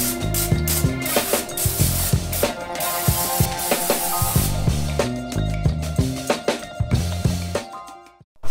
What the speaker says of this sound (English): So I'm going to use some Gunk engine degreaser, just spray it on all the greasy spots